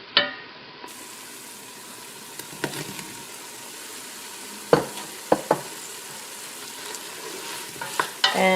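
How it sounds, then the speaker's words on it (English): Okra gently frying in a pot for fish and okra soup, a soft continuous sizzle broken by occasional spoon knocks and stirring clatter against the pot, close and fairly quiet, no voices. "we're going to gently fry, as the recipe calls for, gently fry for an additional 10 minutes."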